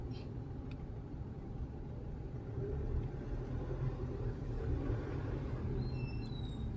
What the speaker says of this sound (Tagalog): Ito na, traffic.